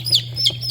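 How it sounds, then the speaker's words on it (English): Week-old chicks in a brooder give three clear, high chirps in a steady rhythm, close by and alone with a low hum underneath. "This is our chicks that are about a week old."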